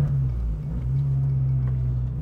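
An Abarth 595 Stage 3 cabrio hums along with a steady, deep engine drone, close and continuous with slight swells in tone over a couple of seconds.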